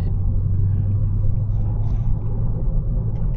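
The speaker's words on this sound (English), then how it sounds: "I really love how my car sounds." A car engine rumbles heavily from inside the cabin while driving, a loud, deep, steady drone with slight swells of revving and no voices.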